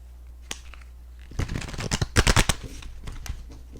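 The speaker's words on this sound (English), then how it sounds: "I love that it shuffles so beautifully." A deck of Book of Shadows tarot cards is shuffled close up in a quick run of crisp riffling flutters, loudest in the middle, preceded by a few soft card taps.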